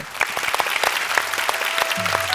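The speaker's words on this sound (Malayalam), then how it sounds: "അതിനൊരു സ്പെഷ്യൽ കൈയടി" A studio audience at a Malayalam singing show gives a special round of applause for a contestant's song. The clapping is lively and close, with individual claps standing out, and a short voice sounds near the end.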